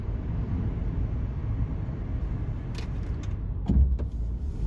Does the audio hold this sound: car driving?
yes